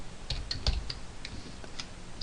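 Keys clatter on a computer keyboard during a PHP programming lesson, a quick irregular run of light clicks close to the mic with no talking.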